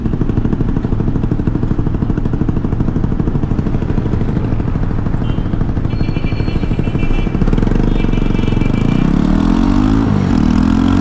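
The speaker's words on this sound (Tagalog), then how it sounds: "very smooth ang arangkada ng motor na ito" A 2023 FKM 3GP 300cc motorcycle engine runs loud and steady while riding, with rising tones toward the end as it picks up speed, and no talking.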